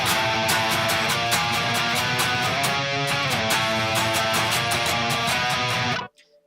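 Heavily distorted electric guitar chugs an octave chord with the middle string muted, dense rapid palm-picked rhythm, loud and sustained for about six seconds before stopping abruptly.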